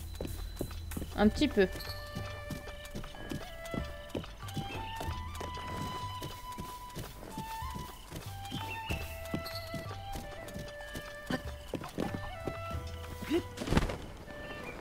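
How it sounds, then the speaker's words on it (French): Rhythmic hoofbeats of a galloping horse in The Legend of Zelda: Breath of the Wild, steady clip-clop under someone talking, with music playing along. "On va un peu plus vite à cheval."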